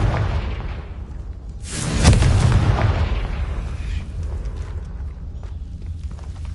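Confringo explosion spell cast in a video game: a loud burst that whooshes in and then fades into a long, rumbling tail over a heavy background.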